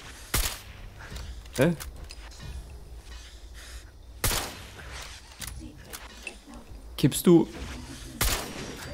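Gunfire bursts in the online game Fallout 76, several sharp broadband shots scattered across the stretch, some in quick clusters, heard over game ambience while someone talks in German.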